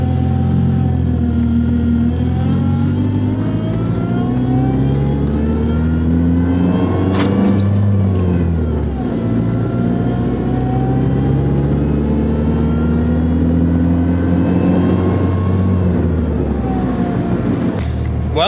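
A turbocharged PT Cruiser GT with a stick shift drives under load. The engine drones loud and close, its pitch climbing through each gear and dropping at the shifts.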